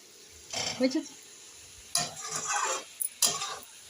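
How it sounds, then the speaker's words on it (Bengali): Cauliflower and pointed gourd sauté in a pan for a dish with taki fish, three bursts of stirring and scraping over a soft sizzle, close and fairly loud. "এবার একবার ভালো করে ফুলকপি আর পটলটা কষিয়ে নেব"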